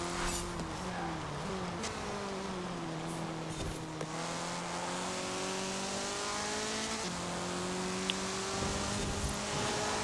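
A car engine drones steadily while driving in the racing game Forza Horizon 4 during a Spring Championship event, its pitch climbing and dropping through gear changes, continuous and close with no talking.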